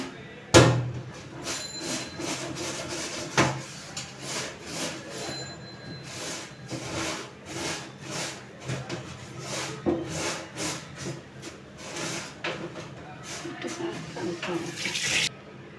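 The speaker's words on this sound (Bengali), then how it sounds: "আমি কিন্তু পাবদা মাছটা এই জালি সাহায্যে পরিষ্কার করে নিব।" Pabda fish scrubbed clean with a mesh scrubber at a sink, rubbing and scraping strokes repeated under running tap water, close and moderately loud, with a sharp knock near the start.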